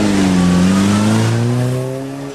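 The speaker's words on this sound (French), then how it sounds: "Mini Racing Green de 1000 cm3 de 1989, 55-60 chevaux, avec une grosse prépa moteur," A 1989 Mini 1000 cc race car engine, heavily tuned, revs loudly and steadily up close at a historic hill climb, its pitch climbing then easing slightly as it fades a little at the end.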